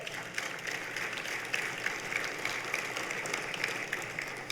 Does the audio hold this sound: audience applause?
yes